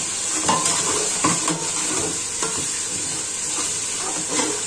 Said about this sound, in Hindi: इसको फ्राई करेंगे। इसके साथ फिर ये 2 से 3 दरमियाने साइज के टमाटर हैं।